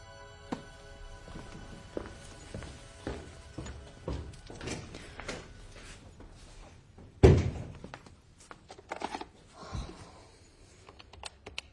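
A door slams shut with a single loud thud in a quiet room, surrounded by lighter knocks, clicks and handling noises before and after, with no talk.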